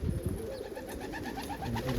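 A homing pigeon coos in soft, rolling low murmurs close by, with faint chirps and light rustling from other birds around it.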